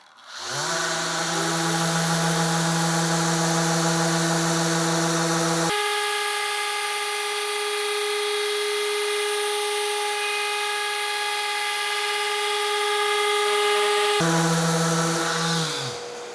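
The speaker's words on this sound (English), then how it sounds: "I'm using 120 grit 3M Cubitron 775L sandpaper, brand new sheet." A Festool ETS random orbital sander running 120-grit 3M Cubitron 775L sandpaper on a brand-new sheet gives a loud, continuous whining drone that shifts pitch as it bears down on the workpiece, then eases back near the end.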